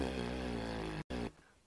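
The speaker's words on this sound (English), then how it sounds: "when you keep your lips tight, it sounds like this" A lip buzz made by blowing air through tightly held lips, a sustained, steady, close buzzing tone with a brief break near the end before it fades out.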